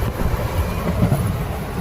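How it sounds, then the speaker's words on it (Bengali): A passenger train running between Howrah and Varanasi, heard from inside a carriage as a steady low rumble and rattle that continues without a break. "বাইরে ট্রেন চলছে রানিং একদম"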